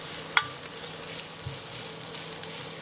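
Carrots and leeks stir-fry in a pan for egg noodles with sauce, a quiet, steady sizzle broken by one sharp utensil clink and a soft stirring thud, with no talking.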